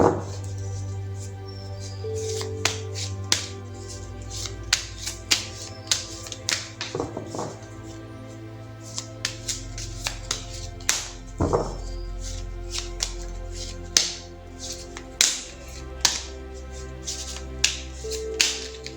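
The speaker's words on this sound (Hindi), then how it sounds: "तो चलिए पहले ज़रा कार्ड्स को शफल कर लेते हैं।" Tarot cards being shuffled by hand: a run of quick, close, crisp taps and riffles, irregular and fairly soft, over a low steady hum with no talking.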